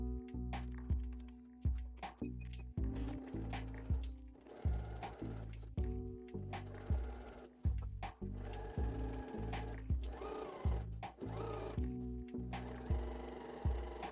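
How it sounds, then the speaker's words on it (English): Sewing machine stitching apron ties and a neck loop over a curve, sounding in repeated short mechanical bursts of rapid clattering stitches separated by brief pauses, close and moderately quiet. "Here you can see where I start sewing the ties together on the one side and then sewing over the curve"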